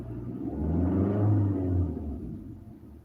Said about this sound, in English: Should I rev my gas up?